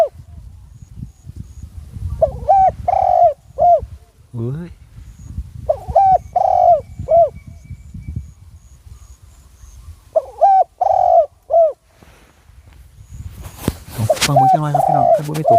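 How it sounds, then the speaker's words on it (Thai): A spotted dove coos outdoors in repeated low, soft phrases, three clear bursts with pauses between, over faint background and a brief louder rustle near the end. "มีเสียงนก"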